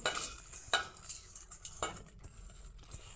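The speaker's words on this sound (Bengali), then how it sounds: "ঘি দিয়ে আর তেজপাতা দিয়ে এটাকে ভালো করে মেখে রেখে মেখে রাখবো" Soaked rice is mixed with ghee and bay leaf in a bowl: soft, quiet scraping and stirring, with several sharper clinks of a utensil against the bowl spaced irregularly.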